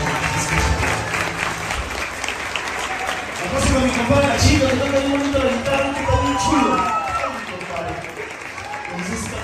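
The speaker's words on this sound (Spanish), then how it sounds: "El aplauso, por favor." Audience applause at a Mexican family stage show, a loud sustained burst of clapping with crowd noise and voices mixed in, fading slightly toward the end.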